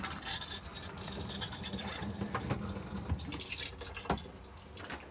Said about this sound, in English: push to flush just on the button underneath here